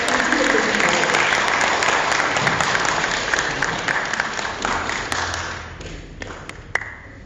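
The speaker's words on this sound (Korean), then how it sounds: "박수 한번 치십시오." Audience at a Korean reunification lecture in New Malden's Koreatown applauding, a sustained, fairly loud wash of clapping that thins and tapers off with a few scattered taps near the end.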